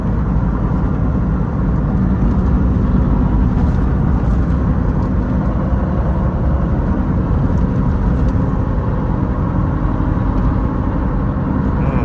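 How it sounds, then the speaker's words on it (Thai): Road and tire roar inside a Mazda BT-50 Pro at 100 km/h on 285/75R16 tires: a constant, loud, broadband rumble and hiss that holds steady throughout with no speech. "ดี๋ยวจะลองซัดความเร็วสัก100 ให้ดูนะครับมาฟังเสียงยางกันว่า มันดังแค่ไหน"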